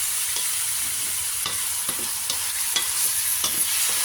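Adobo sa gata sizzles steadily in a pan, a continuous hiss broken by a few sharp scrapes and taps of a spoon stirring, heard up close without voices.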